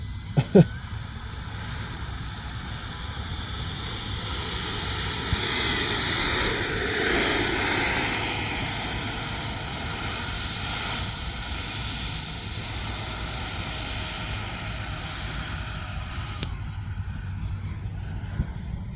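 An E-flite 80mm F-16 RC model jet makes a low pass down a runway, its ducted-fan whine rising steadily to a loud, high-pitched peak at mid-pass, then receding but still audible as the jet pulls away.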